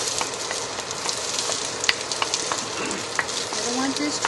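Onions and garlic sizzle steadily in heated oil in a pan for sweet and sour pork, a dense close crackle with occasional stirring clicks and no speech.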